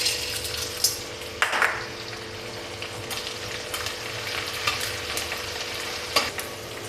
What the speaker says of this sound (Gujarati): તો ઘી ગરમ થઈ ગયું છે, તો હવે આપણે ગુંદને તળી લેશું